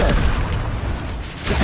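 A Confringo spell explosion in the Hogwarts Legacy video game: a loud, sustained booming blast with heavy low-end rumble filling the whole moment, with no voices over it.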